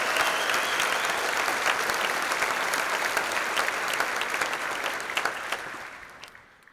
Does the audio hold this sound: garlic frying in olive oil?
no